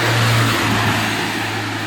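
A Renault engine straining in low gear, a droning rev held steady then easing slightly, close and loud for under two seconds with no talking.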